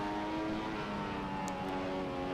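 A Formula 1 car in the F1 2015 racing game roars down the straight, its engine a loud, steady, high-pitched drone held at full throttle throughout.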